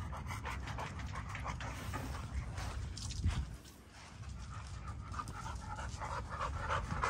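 A dog pants steadily and quickly at close range, a soft rhythmic huffing that carries on throughout with only a brief dip in the middle and no talking.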